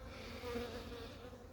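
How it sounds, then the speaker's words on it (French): Honeybees leaving their hives to forage at an apiary near sunflower fields, a continuous close buzzing drone with faint overlapping hums, with no talk. "on voit bien toutes les butineuses qui sortent là, qui partent bosser"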